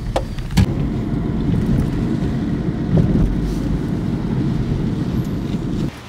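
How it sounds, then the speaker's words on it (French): Wind blasting steadily across the microphone at Nazaré on a rough, blustery day, a loud continuous low rumble with a few sharp gust buffets, holding for several seconds and then easing off near the end. "Il y a du vent, du coup je pense que les conditions vont être un peu pourries."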